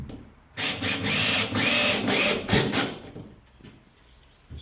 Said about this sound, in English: Screw up the sub truss bits with 8x3 screws.